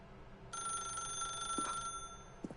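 Telephone ringing in the video game The Stanley Parable: a steady electronic ring tone starts after a short pause and holds for over a second, moderately quiet, followed by a couple of soft clicks and no talking.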